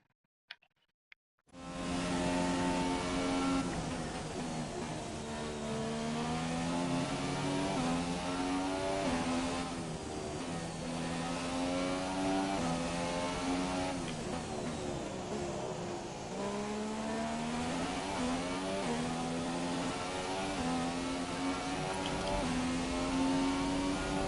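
F1 car engine screaming through a flying lap in the F1 2017 video game, Australia, a loud continuous high-revving whine that rises and falls with gear shifts and corners, starting abruptly after a brief silence and holding steady to the end.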